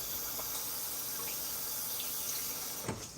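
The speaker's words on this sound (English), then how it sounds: "And then I'm going to put some water in it." A kitchen tap runs steadily as water fills a pot for a breakfast dish, giving a constant hissing splash that stays loud and even throughout.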